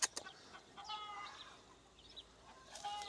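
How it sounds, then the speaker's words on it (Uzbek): A flock of farmyard turkeys gives faint, scattered clucks and short calls over a quiet outdoor background, with a couple of sharper bursts near the start and end. "Kurkular to'dasi ko'kalar."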